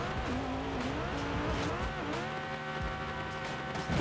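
A 1200 hp twin-turbo Lamborghini in Forza Horizon drives off-road, its engine roaring and droning steadily up close with shifting pitch and occasional tire noise throughout.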